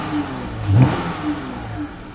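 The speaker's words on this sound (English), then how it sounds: "be sure to give the engine a good rev." A car engine gives a single quick rev, rising briefly over a steady idle and then dropping back.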